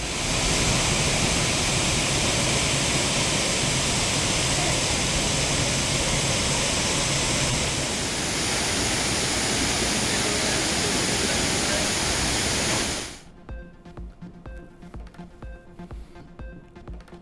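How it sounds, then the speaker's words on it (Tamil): The flooded Courtallam waterfalls roar as a loud, dense, continuous rush of water that cuts off abruptly near the end, leaving quieter sound behind. "குற்றாலம் அருவிகளில் கடும் வெள்ளப்பெருக்கு"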